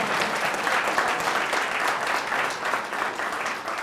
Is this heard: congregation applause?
yes